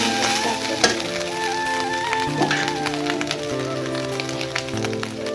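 An egg fries in a pan with a dense, loud, continuous sizzle and crackle. Faint steady tonal sounds run underneath, and no one speaks.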